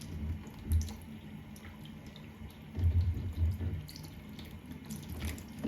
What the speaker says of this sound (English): So let's get the water running.